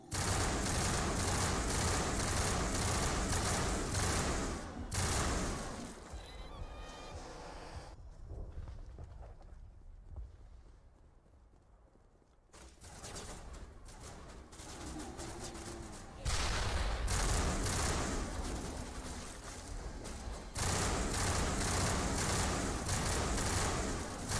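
Sustained automatic gunfire from an overheating weapon in the Mass Effect video game, loud and dense bursts at the start and end with a quieter lull in the middle.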